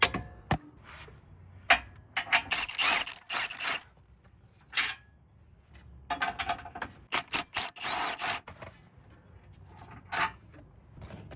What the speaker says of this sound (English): this is a pretty big 1/2 inch ratchet right here